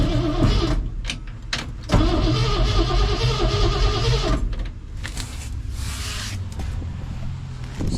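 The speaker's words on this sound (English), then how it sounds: "let me see if there's any life in this battery." A 1967 Chevy truck engine cranks on a weak battery after fuel is squirted into the carburetor bowl, a loud, rough starter churn running in bursts with short pauses between attempts.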